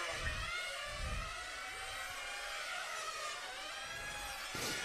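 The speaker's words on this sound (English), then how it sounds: "I hear already cars lifting at the end of the straight" Small high-pitched 1/8-scale nitro engines whine and rev as RC cars race past on a track, tones rising and falling over a steady buzzing background.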